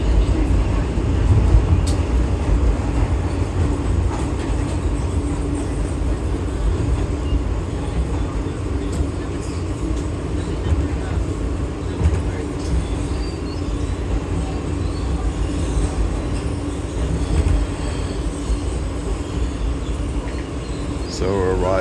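Open gangway G subway train riding into the lower level of the 50th Street station, a steady loud rumble of wheels and car noise that runs throughout with occasional squeals, while someone talks over it.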